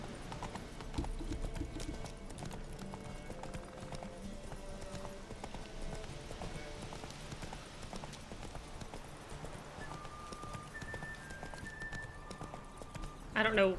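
Roach the horse in The Witcher 3 moves with steady rhythmic hoofbeats under game music and ambience, moderately loud and continuous, with a brief louder burst at the end.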